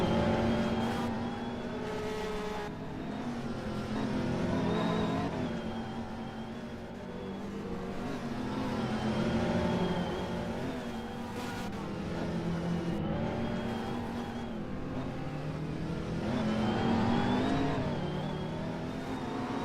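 GT race cars, among them a twin-turbo V6 machine and a McLaren 720S, howl around the circuit in a sustained, loud engine roar that rises and falls with shifts and passes, with a commentator faintly audible.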